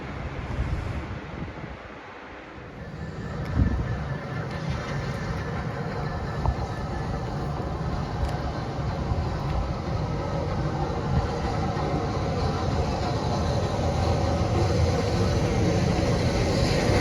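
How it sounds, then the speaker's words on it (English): A railway tamper machine passes along the West Coast Main Line, a loud, steady mechanical rumble and clatter that builds and holds close by for the whole stretch, with no talking. "we've got a tamper machine coming through."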